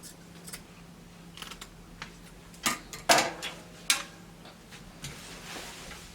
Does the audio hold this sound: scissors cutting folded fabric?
yes